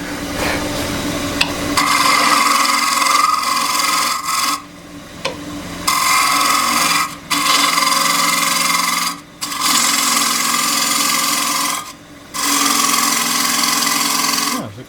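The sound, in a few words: square end scraper cutting a square wooden plate on a lathe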